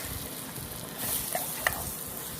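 Minced beef roast being stirred in a frying pan, with a steady soft sizzle throughout and a few brief scraping clicks of the spoon near the middle, no talking.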